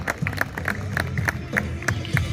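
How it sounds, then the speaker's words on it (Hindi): Scattered clapping from a crowd at a cricket league award ceremony, uneven sharp claps with murmuring voices and crowd noise behind. "आप लोग भरपूर तालियों से इनका हौसला अफजाई भी करते जाएं साथ साथ।"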